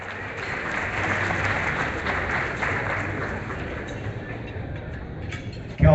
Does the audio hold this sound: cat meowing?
no